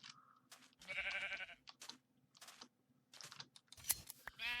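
Sheep in Minecraft bleat in several short, repeated calls with pauses between them, moderately loud and heard alone with no talking.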